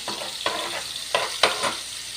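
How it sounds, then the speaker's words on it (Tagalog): Ground meat sautéing in a pan, a steady sizzle broken by a few sharp scraping stirs of a utensil against the pan, close and fairly loud, with no voices. "Yan, gisa-gisa lang po."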